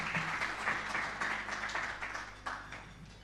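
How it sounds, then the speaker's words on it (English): Audience at a SACCO investor briefing clapping, a moderate, fairly distant round of applause that thins slightly toward the end over a low steady hum. "Another hearty clap for Engineer."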